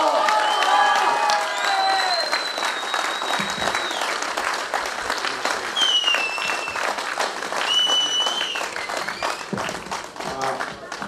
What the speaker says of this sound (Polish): Brawa dla Marcina.